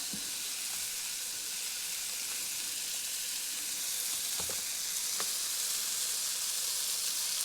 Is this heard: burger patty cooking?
yes